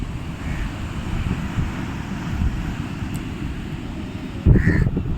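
A crow on Calangute beach in Goa caws twice, briefly and at a distance, once near the start and again near the end, over steady wind and surf noise.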